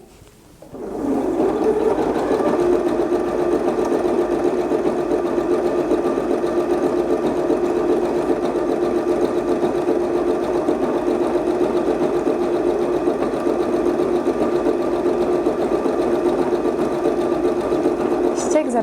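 A Janome DXL603 sewing machine stitches thin, delicate cotton fabric, starting up after a second and then running as a steady, fast, close mechanical whirr and rapid clatter at even speed throughout, with no talking.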